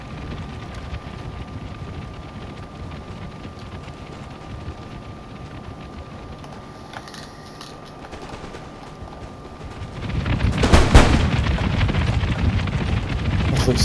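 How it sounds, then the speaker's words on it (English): Gunners in a Napoleon: Total War battle fire a massed musket volley, a sudden loud crackling burst rising out of low ambient battlefield rumble near the end. "It looks so beautiful when all the gunners are shooting at the same time."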